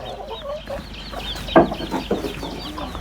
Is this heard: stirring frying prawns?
no